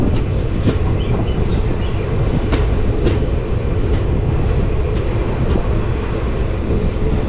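Tutari Express on the Konkan Railway rolling into Savarda railway station, a loud continuous rumble of wagons with repeated clicking wheel-on-rail joints, close by and without voices.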